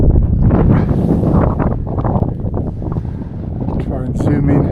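Wind blowing across an open fell top in the Lake District, buffeting the microphone as a loud, steady roar with rough gusting rumble throughout.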